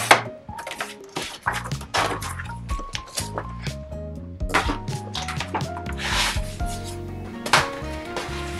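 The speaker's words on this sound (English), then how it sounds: "You want to take the paper trimmer and just trim it down." Paper trimmer slicing through a vinyl sticker sheet, a series of close scraping, rubbing strokes with light clicks as the blade slides, amid soft background music.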